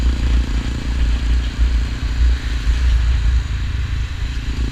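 A Honda XRE 300 motorcycle engine idling close by, a steady low rumble with slight clattering pulses and no change in revs throughout.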